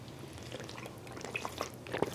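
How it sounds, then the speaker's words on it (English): Someone drinks water from a WaterH smart water bottle, producing soft, quiet sloshing and small liquid drips and gulps that grow slightly more pronounced toward the end. "let me take a drink of water"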